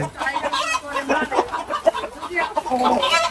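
Brown cock layer chickens cluck and squawk on a poultry farm, a busy overlapping flock close by, with people talking over them.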